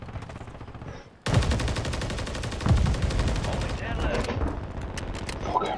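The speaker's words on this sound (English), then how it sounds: "someone is trying to shoot us from behind" Loud, rapid automatic gunfire erupts after a quiet moment and hammers on continuously in Call of Duty Warzone Resurgence, with shots coming from behind the player.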